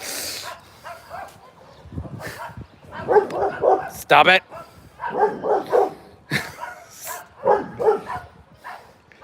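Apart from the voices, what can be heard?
neighbour's dog barking across the street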